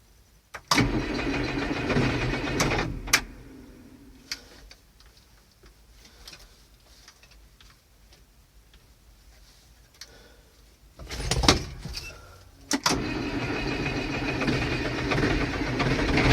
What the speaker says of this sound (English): All these tractors need it starting up anyway, so keep the engines warmed up.